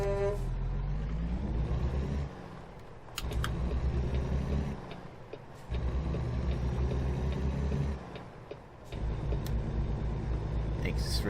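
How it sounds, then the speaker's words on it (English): Truck horn in American Truck Simulator, loud sustained honks sounding in three long blasts with short gaps between them, over steady engine and road rumble, with a voice talking along. "we're going to honk to the Nesquik bunny"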